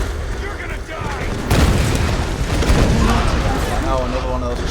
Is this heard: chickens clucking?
no